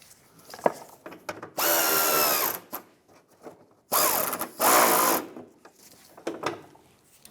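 A power drill tightens inner fender liner fasteners on a 1996-2002 Toyota 4Runner, with two loud, close whirring bursts of a couple of seconds each, separated by quieter handling clicks.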